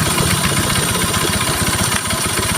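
An automatic scooter, just repaired after a box filter and wiring fault, runs at idle with a steady, loud, close-up chugging engine pulse that holds evenly throughout with no talk.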